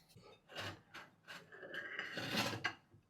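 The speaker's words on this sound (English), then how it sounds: "You also grate your ginger" Ginger is grated by hand in a series of rasping strokes, about five uneven scrapes of rising strength, close and quiet.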